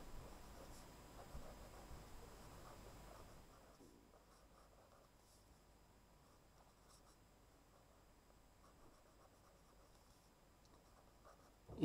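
A pen writing on paper, a soft continuous scratching close by, slightly louder at first and then fainter and steadier, with no talking.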